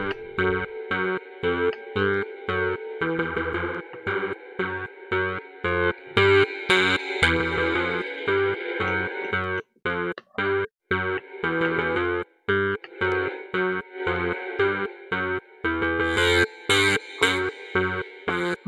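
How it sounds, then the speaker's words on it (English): A song in production plays through a built-in plate reverb: choppy, rhythmic, distorted synth-like chords pulse steadily with a washed, effected tone for the full stretch. "That's the built-in reverb you were talking about,"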